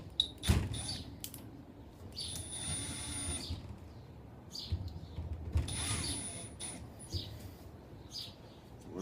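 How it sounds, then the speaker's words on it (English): Mounting screws on a flush LED ceiling light are tightened, heard as short ratcheting, creaking mechanical bursts with a couple of sharp clicks and thuds, fairly close and quiet, no talking. "We're going to go ahead and tighten up these screws real quick."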